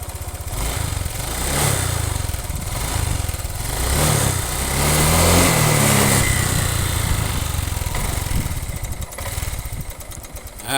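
A Honda Vario motorcycle engine starts and runs, a close buzzing idle that rises into a louder revving stretch midway, then settles back into steady running.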